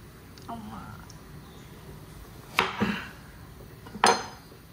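A knife cutting through frozen mango kulfi on a board, a few sharp tapping clicks and scrapes spaced apart, with quiet background noise.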